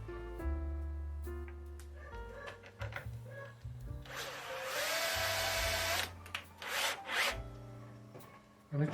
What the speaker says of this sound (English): just run it backwards first. Just let it sort of burn a hole in it.